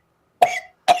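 Two sharp, close coughs from one person, the first longer and the second cut short, separated by silence.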